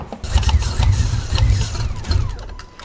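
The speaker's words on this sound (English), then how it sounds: "Now I'm gonna start the truck" A 2021 Ford F-150 pickup with a freshly installed Whipple supercharger cranks and struggles to start, rough uneven engine bursts and low rumbling that sputter and fade, close up.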